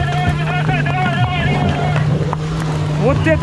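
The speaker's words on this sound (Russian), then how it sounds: "Вот это он газует." An off-road car engine holds a steady, strained drone while climbing a hill, heard from nearby, with people talking over it throughout.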